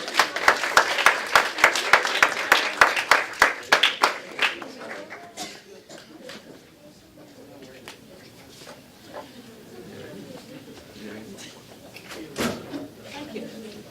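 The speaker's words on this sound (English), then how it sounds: "Can you please have a round of applause for all our participants today?" An audience applauds participants at the end of an ethics challenge competition, starting loud with sharp rapid claps, then thinning into scattered claps as it fades, with voices murmuring underneath.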